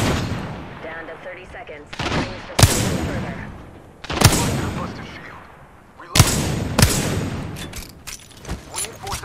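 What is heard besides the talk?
gunfire from weapons in video game Apex Legends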